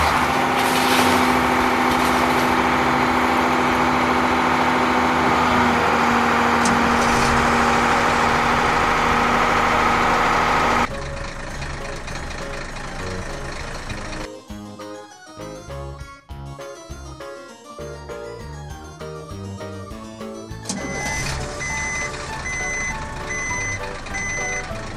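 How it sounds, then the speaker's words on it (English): Green garbage truck engine idling steadily and loud for the first stretch, then giving way to varied softer sounds with faint repeated reversing beeps near the end. "Green. Garbage truck."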